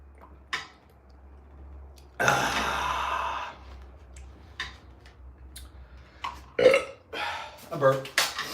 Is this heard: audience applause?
no